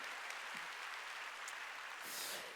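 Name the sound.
church congregation clapping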